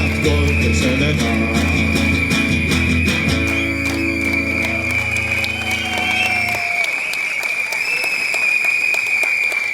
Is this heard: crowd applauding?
yes